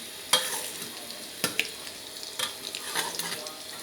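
An egg frying in very hot oil gives a faint, continuous sizzle, broken by a few sharp clicks and scrapes of stirring.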